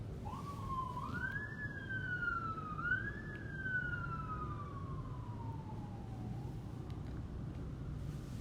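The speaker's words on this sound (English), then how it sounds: "The police cars are really interfering with my recording." A police siren wails and sweeps up and down in pitch, rising twice then gliding slowly lower, heard at moderate distance over steady background rumble.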